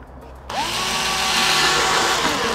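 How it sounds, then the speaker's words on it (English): A power drill fitted with a 1/8 inch bit spins up and drills steadily downward, a loud continuous whine lasting a couple of seconds, close up, with no talking. "essentially we're just gonna drill down."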